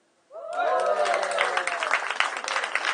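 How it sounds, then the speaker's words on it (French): An audience at a comedy show at the Dock Yard bursts into applause after a quiet moment. Loud cheering and whooping voices come first, then a dense, sustained clapping that carries on to the end. "vous pouvez applaudir si vous voulez"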